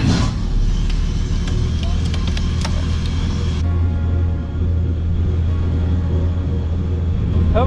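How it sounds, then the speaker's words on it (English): A vintage Mercedes-Benz jet car's engine runs with a steady, loud low rumble from inside the car, holding fairly even throughout. "first impressions of driving this Mercedes-Benz jet car"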